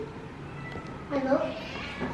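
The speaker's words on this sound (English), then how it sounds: "No, that's the full-grown cat." Full-grown adult cat meowing once, a short clear meow in the middle, with people talking quietly around it.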